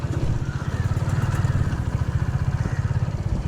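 Hero Splendor motorcycle engine idling close by with a steady, even thumping putter and a little mechanical clatter.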